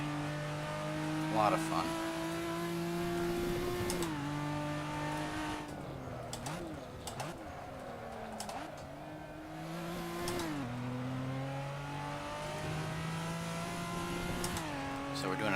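A race car engine in a multiplayer racing game drones steadily, rising and falling in pitch through gear changes and corners, with a few sharp knocks, while someone talks briefly over it.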